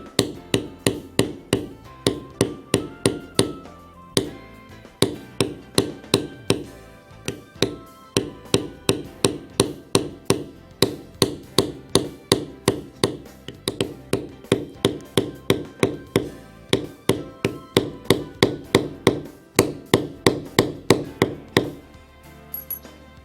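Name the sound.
tapping a leather beveler with mallet along borders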